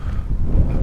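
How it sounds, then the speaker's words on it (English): Wind gusting across open docks in Berlin, a continuous low buffeting rumble that pushes steadily against the microphone for under a second, with no speech. "Oh, it's windy. It's Okay. getting windy."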